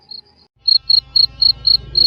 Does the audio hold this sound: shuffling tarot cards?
no